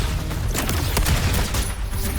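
Rapid gunfire in the Wuthering Waves video game, dense and loud throughout a short burst with booming low end and crackling shots.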